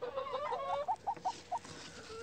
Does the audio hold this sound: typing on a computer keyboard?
no